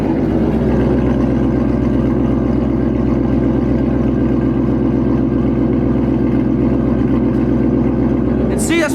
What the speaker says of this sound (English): You can see the car is idling just fine.